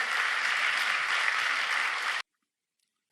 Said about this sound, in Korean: 우리 다 같이 하나님께 영광의 박수입니다.